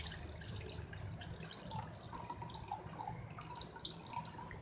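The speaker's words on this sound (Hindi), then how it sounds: "अब हम इसे दूसरे बर्तन में अंडेल देंगे," Sweetened sattu drink poured from one vessel into another, a steady close trickle and splash of liquid running alone without talk.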